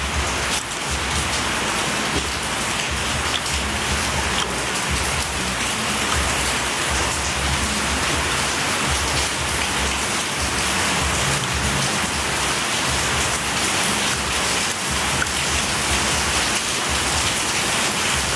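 Steady, dense rainfall pours down without pause, a loud continuous wash of drops close by with no voices.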